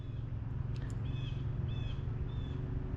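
Outdoor birdsong, several brief thin chirps spaced across the moment, soft against a constant low hum; no voices.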